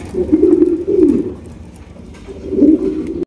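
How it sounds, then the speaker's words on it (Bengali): Black Sirazi pigeons coo close by in two low, throaty bursts, one near the start and one near the end, with a quieter murmuring stretch between them. "ব্ল্যাক সিরাজি ফাটা যা আছে তাই"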